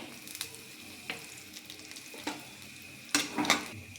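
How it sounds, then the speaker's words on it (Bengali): Nigella seeds temper in hot mustard oil in a kadai, giving a low, steady sizzle punctuated by occasional spoon clinks, with a brighter crackling burst near the end. "কালো জিরে ফোড়ন দিয়ে দিচ্ছি"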